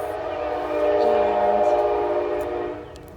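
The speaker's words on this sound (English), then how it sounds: "wouldn't be my video if it wasn't for the train" A train passes near a backyard chicken and vegetable garden, a steady rumbling drone carrying a sustained horn-like tone that swells in the middle and fades toward the end.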